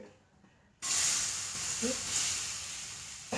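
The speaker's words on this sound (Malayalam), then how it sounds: "ഈ നേന്ത്രപ്പഴം ഒന്നും കൂടെ വഴറ്റിയെടുക്കാം നമുക്ക് നെയ്യിൽ" Chopped nendran plantain sizzles loudly in ghee, a sudden hissing burst that then settles into a steady sputter.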